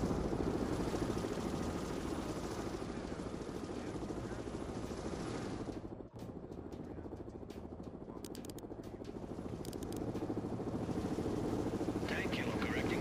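A heavy helicopter in a video game drones with a loud, steady rotor and engine roar that fills the whole stretch, briefly dipping midway amid clicks and small effects, with radio-style voices in the background.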